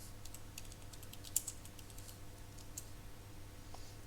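Soft keyboard clicks as a search is typed on a computer keyboard, a light scattering of keystrokes with one sharper tap near the middle, faint and steady over a low background hum, no voices.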